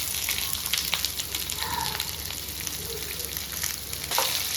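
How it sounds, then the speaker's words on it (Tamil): Onion, garlic and curry leaves frying in a pan for onion chutney give a steady close sizzle, with a few soft scrapes from stirring and no talking. "கொஞ்சம் ஆனியன் நல்லா வதங்குற வரைக்கும் அப்படியே வச்சுட்டு கொஞ்சம் நேரம் நல்லா கிளறி விடணும்"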